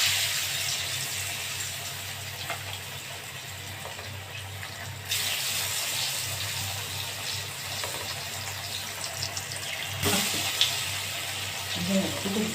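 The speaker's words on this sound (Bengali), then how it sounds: "এবার আমি তেল দিয়ে দিচ্ছি, ভেজে নেব এটাকে" Dhoka lentil cakes frying in hot oil make a continuous nearby sizzle, joined by louder bursts of splattering at intervals and faint kitchen clatter, with no voices.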